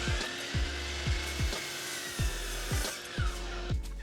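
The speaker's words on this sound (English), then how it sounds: "I start with cutting all the pieces for the bottom base to its final length" A saw cuts lumber to length for a cart base in steady, regular strokes, about two per second, close and fairly loud with a low hum underneath.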